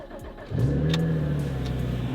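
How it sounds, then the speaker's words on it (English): A Porsche Cayman fitted with an exotic aftermarket exhaust fires up from very cold: a quiet crank, then a loud, sudden catch that flares and settles into a steady, deep idle, close by. "This is gonna be a very, very cold start."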